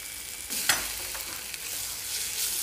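Okra curry is stirred in a frying pan, with a steady close sizzle and a few scraping spoon strokes across the pan.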